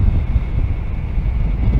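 Loud low rumbling wind buffeting the microphone on a motorcycle ride near Jaufen Pass, constant and heavy throughout, with no speech.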